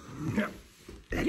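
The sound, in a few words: old dog whimpering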